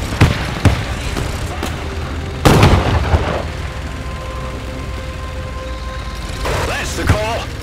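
Artillery guns firing in Men of War II, American forces in a multiplayer battle: a few sharp, heavy booms with rumbling tails, one louder blast in the middle, while radio-style voices talk throughout.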